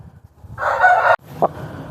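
A single loud crow from a Eastern-breed Kaki Dega gamecock rings out close by, followed by a short cluck against quiet background.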